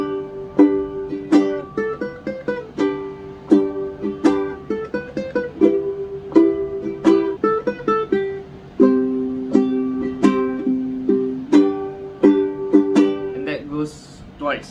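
A ukulele plays the melody of a song fingerstyle, with plucked single notes and short phrases in a clear, close, bright tone, each note decaying quickly in an uneven melodic rhythm.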